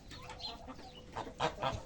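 Geese in a farmyard give a few short, close honks and squabbling calls in quick bursts, the loudest pair coming near the end.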